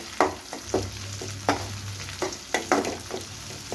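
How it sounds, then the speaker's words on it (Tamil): Shallots and green chillies sauté in oil for a dry fish thokku, a soft steady sizzle punctuated by repeated scraping stirs of a spoon against the pan, close and fairly quiet. "ரெண்டு பச்சை மிளகாய் கீரி வச்சுருக்கேன், அதுவும் இதில் சேர்த்துக்கிறேன். சேர்த்து அந்த எண்ணெயிலே நல்லா வதக்கணும்."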